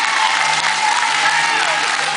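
An audience at an elders' queen election ceremony in Le Moule claps in a loud, dense round of applause, a steady crowd patter with a voice faintly heard over it.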